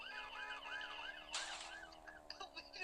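A fire engine siren in a video game wails up and down in a steady, repeating rise-and-fall pattern, then shifts to a sharper, faster cycle partway through; it is fairly faint and continuous.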